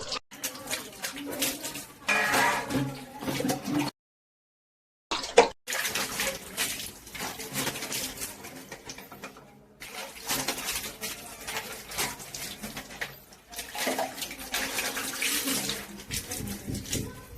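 Running water splashes as dishes and utensils are washed during festival house cleaning, the flow broken by a few brief pauses, with faint bird calls in the background and no speech.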